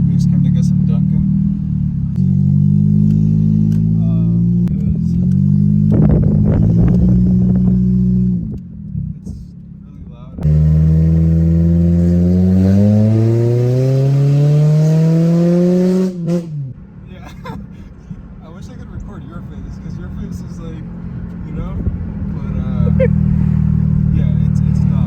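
A Honda Civic fitted with DNA engine headers and little else idles with a loud, rough drone, then revs hard with a climbing snarl before dropping back, heard close in a parking lot.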